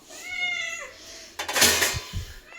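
A cat meows once with a drawn-out, falling cry, followed by a burst of rustling and clatter nearby.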